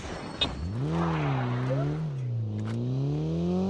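A car engine in Call of Duty Mobile revs close by, its pitch rising, dipping and climbing again in a steady loud drone, with a few brief clicks over it.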